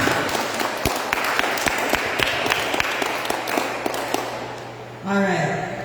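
A church congregation at an equipping session applauds with sustained, lively clapping for several seconds, and then a voice begins speaking as the applause stops.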